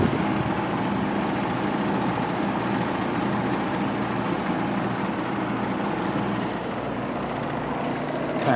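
A vintage 1957 Fedders Weather Wheel window air conditioner runs with a steady, close mechanical hum and whirring fan rush, an unbroken drone that holds level throughout with no speech.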